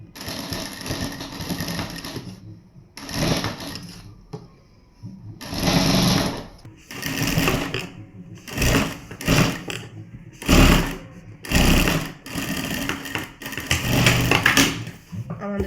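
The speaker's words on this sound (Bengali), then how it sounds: "আমি মেশিনে সেলাই দিচ্ছি" A sewing machine stitches a fabric garment seam in repeated short bursts of rapid whirring, separated by brief pauses, loud and close.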